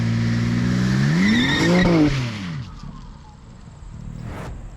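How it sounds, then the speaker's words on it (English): A 2021 BMW M4 Competition making a first-gear manual launch: the engine roars loudly and climbs in pitch, bogs and falls away around the shift point, then drops to a low idle with faint tire noise. "this is what happens with a first gear manual launch"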